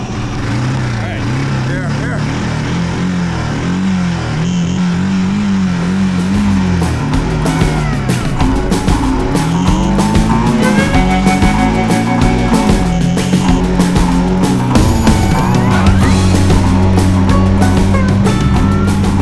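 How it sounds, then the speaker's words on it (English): A banned three-wheeler's engine runs loudly and close throughout, its pitch rising and falling with revs under frequent voices talking over it. "Dan, hit the starter button"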